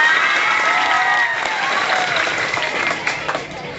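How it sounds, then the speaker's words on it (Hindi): A class of schoolchildren claps for a classmate who answered a question about earthquake safety, a lively burst of applause with scattered cheering that tapers off toward the end. "ताली बजाओ बच्चे के लिए"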